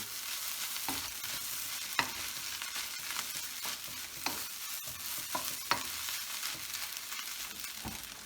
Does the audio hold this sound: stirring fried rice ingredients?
yes